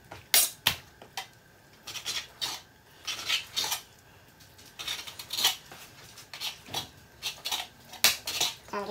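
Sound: knife cutting thick pieces of steak

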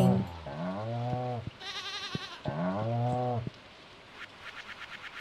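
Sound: goat bleating in Stardew Valley video game

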